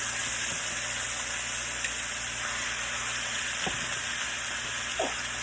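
A steak sautés in a hot pan, giving a steady, even sizzle with soft hiss throughout and a couple of faint clicks.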